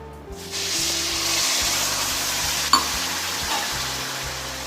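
Water pours into a hot pan of sugar with a steady hiss and sizzle, a short sharp clink partway through, no voices.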